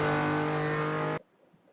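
Lamborghini Diablo engine in the Assetto Corsa racing game, driven at the Goodwood hillclimb, a loud steady sustained drone held close for over a second, then cutting off abruptly to near silence.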